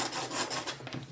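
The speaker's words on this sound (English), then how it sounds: "Just using my sanding block" Short, rapid rasping strokes of a colour pencil tip against a sanding block, a dry scratchy rubbing repeated several times up close.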